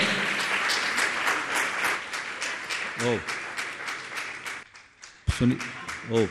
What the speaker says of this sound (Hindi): जोरदार ताली बजाकर इनका सम्मान करें।